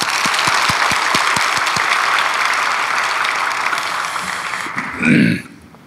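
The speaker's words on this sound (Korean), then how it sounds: "주차 안내부를 생각하면서 한번 격려하는 박수 하겠습니다." At a special dawn prayer service, a church congregation gives a steady round of encouraging applause for the parking volunteers. A few sharp individual claps stand out early, then the clapping fades and a brief voice closes it.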